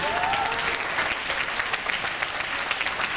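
A crowd of parents and students at a school's last-bell ceremony for a ninth-grade class claps steadily and loudly throughout, a thick wash of applause with a brief faint tone at the start.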